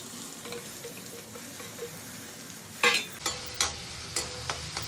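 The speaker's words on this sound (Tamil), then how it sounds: "நல்லா ஆயிலே நல்லா ஃப்ரை ஆகணும். நல்லா ஃப்ரை பண்ணிக்கணும்." Small onions fry in hot oil for Pallipalayam chicken, giving a steady close sizzle. Sharper clinks and scrapes of stirring come in the second half.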